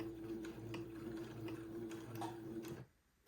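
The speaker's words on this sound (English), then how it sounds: "I'm not going to take my pins out as I sew, so I'll be sewing slowly." Home sewing machine stitching slowly over pinned baby-garment fabric, a steady low motor hum with soft needle ticks running evenly for almost three seconds before cutting off into near silence.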